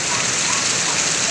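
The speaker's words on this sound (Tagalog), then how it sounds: "umuulan na ng malakas" Heavy rain pours down steadily and loudly onto a surface, a dense continuous hiss with no pauses, close by and filling the whole stretch.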